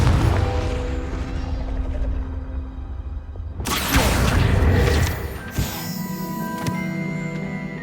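A Confringo blasting spell bursts in Hogwarts Legacy with a sudden loud, bright explosion, followed by crackling debris and a sharp second impact before lingering magical shimmer.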